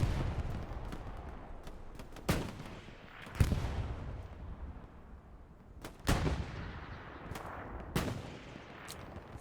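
Artillery fire in Hell Let Loose during a match on Utah Beach: scattered heavy booms, some sharp and close, others distant and dull, land at irregular intervals over a quiet rumbling background.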